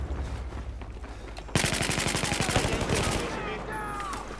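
Sustained rapid automatic gunfire in Battlefield 4 multiplayer, Rush mode, starts abruptly after quieter distant shots and rattles on loud and close as a continuous burst.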